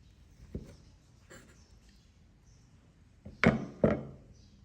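Knife cutting through a block of homemade tempeh: a soft thud, then two louder, close chopping cuts near the end, with quiet stretches between.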